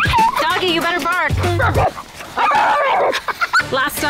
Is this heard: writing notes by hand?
no